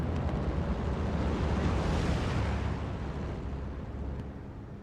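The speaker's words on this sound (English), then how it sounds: "I hear some explosions." A sustained, loud rumbling roar of distant explosions in the video game Hell Let Loose, with dense low booming that swells and slowly fades.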